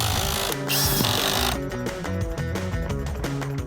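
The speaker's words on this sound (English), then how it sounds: "my next thing here is finishing up drilling the lag screws" Power drill driving lag screws into a patio roof frame, a loud continuous motor whine with rhythmic chattering pulses as the screw bites, close and steady with no talking.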